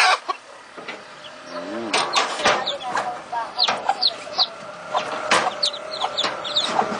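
A mother hen, just back from the water, clucks repeatedly in a dim coop among other chickens, her calls close and irregular, with short higher chirps from the birds scattered through.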